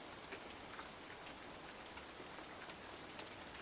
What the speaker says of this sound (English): you expand and flow with the rain, staring at the falling drops through the front glass door